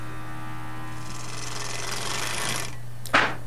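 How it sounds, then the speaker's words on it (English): A jigsaw cuts through wood during carved turning work, a steady buzzing saw run holding for about two and a half seconds over a constant low hum, then stopping with a brief sharp clatter near the end. "This is just grab the old jigsaw and go to it."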